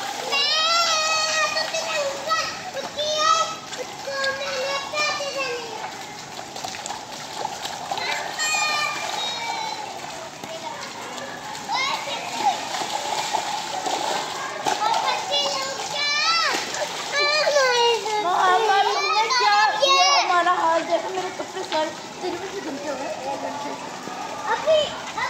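Children playing and splashing in rainwater outdoors during rain in Multan, their excited chatter and shouts nearly continuous over intermittent sloshing splashes and a soft wash of falling water.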